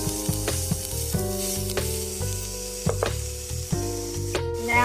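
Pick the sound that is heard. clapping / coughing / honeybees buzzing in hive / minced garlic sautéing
minced garlic sautéing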